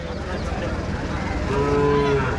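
A loud, low moo from a pair of bulls rises over a steady, noisy outdoor background at a cattle market, a single drawn-out call close by.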